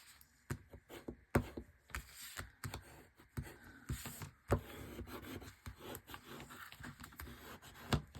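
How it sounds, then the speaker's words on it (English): Tape is burnished while a paper folio wallet is made, giving quiet close rubbing and scraping with irregular soft taps and ticks throughout. "every time we tape, we burnish"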